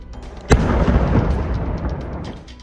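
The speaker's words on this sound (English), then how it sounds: "The following video shows the safe detonation of a German bomb in the English city of Exeter." Controlled detonation of a German WWII bomb in the English city of Exeter: one loud, sharp blast, then a long rumbling roar that slowly fades, heard at a distance.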